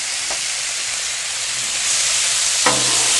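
Sliced potatoes sizzle steadily in bacon grease on a Blackstone griddle for German potato salad, a constant loud frying hiss with a couple of sharp crackles, no talking.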